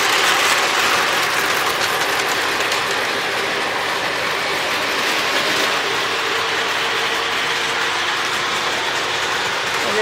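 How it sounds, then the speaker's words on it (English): Tin plate toy train engine, part of a 1934 passenger set, running around its track alongside another engine; a steady rattling, clattering mechanical whir continues unbroken and fairly loud throughout, with no talking. "I'm really enjoying seeing that tin plate engine running around with my legacy engine"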